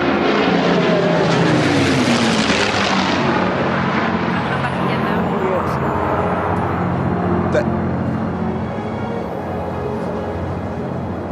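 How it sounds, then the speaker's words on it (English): Hurricane and Spitfire fighter planes with piston engines roar loudly overhead, the propeller drone swelling as they pass close and then fading steadily into the distance. "I'll let everybody listen now to the lovely sound of the Hurricane and Spitfire."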